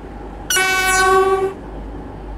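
A class 720 train in the Roblox game Stepford County Railway sounds a single loud, steady horn blast for about a second over a low rumble, with no talk.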